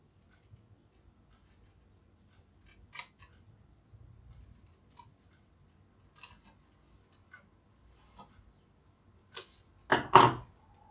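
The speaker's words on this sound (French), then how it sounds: "je vais couper dessus et ôter le petit bourrelet" Scissors cut paper for a craft chocolate box, giving a few sparse, crisp snips spread several seconds apart and ending in a quick louder pair of cuts, in a quiet room.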